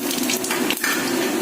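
Cumin seeds and bay leaves hit hot oil for the tempering of a light bhetki fish and potato curry, giving a steady close broadband sizzle with no talk over it.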